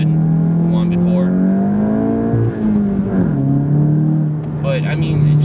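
A VW GTI's engine note climbs steadily as the car accelerates, heard from inside the cabin. A brief dip comes partway through before the pitch rises again, and a voice talks over the engine.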